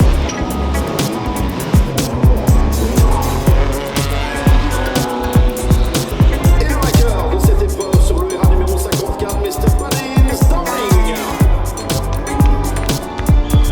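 Loud race car engines at a track, dense roaring revs and rapid rises and falls of pitch with repeated sharp bursts, close and overwhelming throughout.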